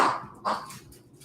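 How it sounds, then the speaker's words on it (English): A curly-coated dog squeezes a squeaky toy nearby, giving two short, bright squeaks about half a second apart over a quiet room. "If you guys hear that noise, my dog, it's still squeaking that toy?"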